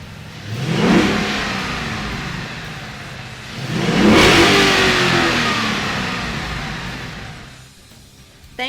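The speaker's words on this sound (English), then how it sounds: "When that's done, you're ready to fire it up." A 2015–2017 Ford Mustang GT V8 fitted with a K&N cold air intake revs twice, each throaty rise swelling loud and close before settling back toward a steady idle.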